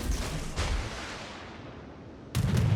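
Heavy naval gunfire from warship batteries in World of Warships, a destroyer battle with a Gearing: two loud broadband booming salvos, one near the start and one at the end, with a rumbling lull between.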